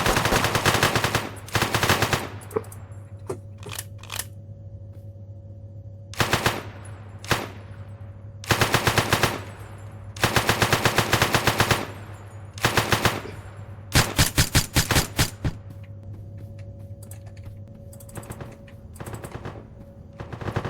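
Automatic gunfire rattles through a jewelry store robbery in the video game One Armed Robber, loud repeated bursts of rapid shots separated by short pauses over a steady low hum.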